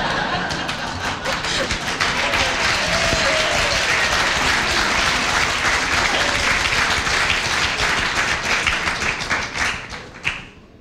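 Audience applause at a spiritual mission presentation, dense steady clapping across a full room that holds for about ten seconds before tapering off at the end.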